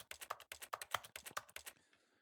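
Rapid keyboard typing in the video game The Stanley Parable, a close, crisp flurry of key clicks in uneven bursts that stops near the end.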